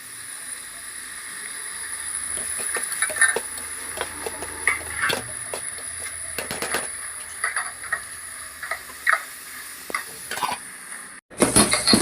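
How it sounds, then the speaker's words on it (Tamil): Tomatoes and drumstick pods sauté in a pan for a fish curry, giving a soft continuous sizzle broken by scattered spoon clinks and stirring scrapes, close by with no talking. "தக்காளி நல்லா வதங்கிடுச்சு,"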